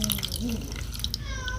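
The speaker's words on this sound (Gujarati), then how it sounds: "ચાલો તો મિત્રો, આપણે પાણી પહેલાં નાખી દઈશું તકમરિયામાં," Water poured over basil seeds soaking in a bowl for Kashi mango sherbet, a steady close splash and trickle with a faint voice murmuring underneath.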